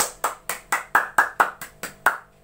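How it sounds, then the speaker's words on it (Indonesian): In a third-grade classroom lesson, crisp hand claps ring out in a quick, evenly spaced rhythm, about nine sharp claps in a row, close and clear with no talking. "coba kasih tepuk tangan yang semangat dulu untuk kita semua"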